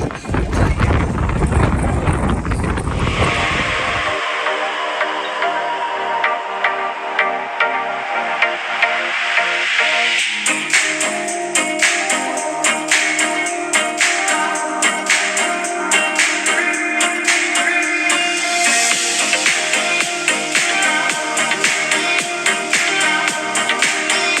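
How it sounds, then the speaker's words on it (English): Strong wind on a hilltop in Bristol buffets the microphone with a heavy, roaring rumble for the first few seconds. It then settles into a steady, loud rush over a tonal background. "It's so windy here."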